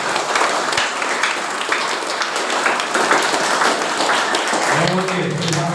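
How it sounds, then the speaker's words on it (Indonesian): A crowd of students claps at a vocational school orientation event at SMK GKPS 2 in honor of a Honda technology presenter. The applause is loud, busy and fairly close, and a voice comes in over it near the end. "tepuk tangan untuk Pak Ferry Panji"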